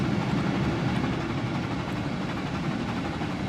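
A train in the video game Trainz Railroad Simulator 2019 rumbles along steadily, a dense, even mechanical roar with faint rhythmic clatter, heard alone.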